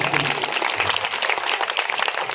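A village crowd applauds at an outdoor community event, a dense, steady wash of clapping from many hands that carries unbroken through the whole stretch, fairly loud and close.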